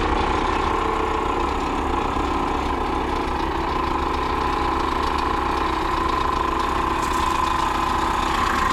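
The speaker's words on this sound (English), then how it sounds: "I ran power back to here, and it's pumping up the pumps" Electric fuel pumps in a Ram 1500 trash-rod truck run on a 12-volt supply, giving a steady, continuous mechanical hum and whine close by with no pauses and no voices over it.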